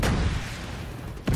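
A grenade blast in the shooter game The Division 2 booms loud and close, followed by a rumbling tail and a second sharp burst near the end.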